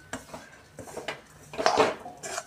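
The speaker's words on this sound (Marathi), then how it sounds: "थोडंसं गोळा बनेपर्यंत आपण याला असंच गॅसवरती परतवून घेणार आहे" A utensil stirs a sesame mixture for til vadi in a pan on a gas stove, giving close, intermittent metallic scrapes and clinks, with one louder burst of scraping partway through.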